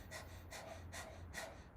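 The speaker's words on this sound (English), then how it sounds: "Let's just do pant like a dog for a little bit." Rapid rhythmic panting breaths like a dog, done as a yoga breath-of-fire exercise, four quick breathy bursts in a steady pulse, close and fairly soft, with no talking.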